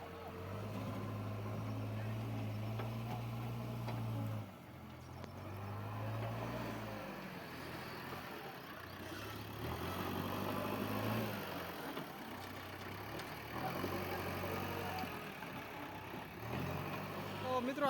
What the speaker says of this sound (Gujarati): કાંતિભાઈ દલવાડીનું ટ્રેક્ટર છે,